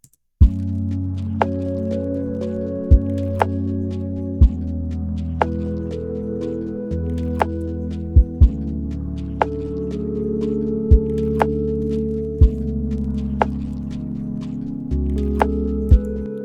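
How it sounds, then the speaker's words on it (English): A sleepy lo-fi drum loop with a simple, mellow melody plays steadily, soft kicks and crisp clicks landing in a slow, even rhythm over sustained low tones. "So you can see just a simple melody and the drums, and sounds like this."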